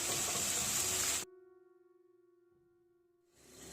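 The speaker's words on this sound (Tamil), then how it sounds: "வெங்காயம் வதங்கிட்டே இருக்குது" Onions for a Chettinad prawn gravy sauté in a clay pot, giving a bright, close sizzle for about a second. The sizzle then cuts off to near silence with a faint hum before it returns.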